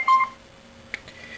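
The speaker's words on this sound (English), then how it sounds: "Stupid phone's going off." A mobile phone goes off with a short, loud electronic tone, then a faint click and a quieter ring tone trailing behind it.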